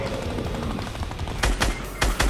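Minigun fire in the video game Fortnite, with several loud, sharp bursts of rapid shots punching through a dense in-game background near the end.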